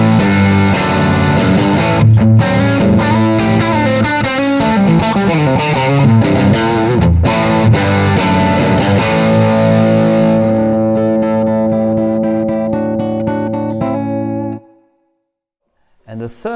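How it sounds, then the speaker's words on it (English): Distorted electric guitar played through a BluGuitar amp into a miked speaker cabinet, loud with steady chords and riffs for about fourteen seconds, then ringing out and cutting to near silence before a brief burst at the end. "So next is the mic'd up speaker cabinet, which of course will sound best."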